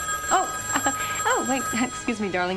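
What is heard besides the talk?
telephone ringing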